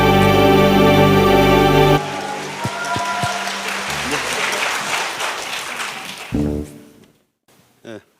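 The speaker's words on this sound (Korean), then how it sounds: "하나님께 감사의 박수를 올려드리겠습니다." Church congregation applauding at a Wednesday worship service, a dense burst of clapping that follows a closing hymn, rises and holds steady, then fades out as a voice begins speaking near the end.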